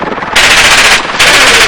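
An M249 SAW machine gun fires at an outdoor range in two loud, close bursts of rapid automatic fire, separated by a short pause.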